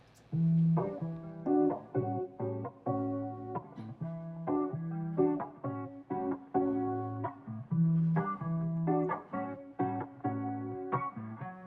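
A guitar strums a looping 2-5-1 chord progression in a relaxed repeating rhythm, the chords clear and close.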